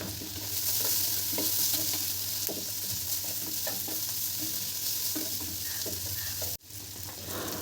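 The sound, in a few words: potatoes frying in a pan with turmeric and salt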